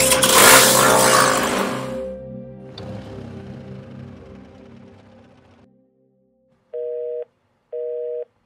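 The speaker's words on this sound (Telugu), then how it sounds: "ఏంటబ్బా వీడు ఫోన్ లిఫ్ట్ చేయట్లేదు" An unanswered phone call: a loud vehicle revs and fades, then after silence two short, steady ringback tones sound, each about half a second, alone and clear.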